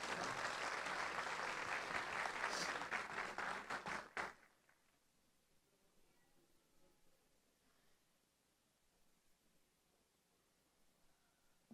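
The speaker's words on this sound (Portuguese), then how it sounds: "Uma salva de palmas para eles, por favor" An audience at a panel event breaks into dense clapping that runs for about four seconds, then stops abruptly, leaving quiet room tone.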